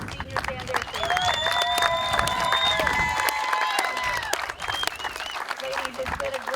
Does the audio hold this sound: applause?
yes